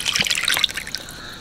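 Leftover oil from frying onions is poured into a pot of chicken dum biryani with its spices, a brief close trickling and dribbling of liquid that fades within about a second.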